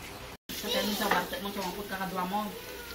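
Goat papaitan soup bubbles and sizzles steadily in a pot, a continuous close hiss and simmer running under a person talking.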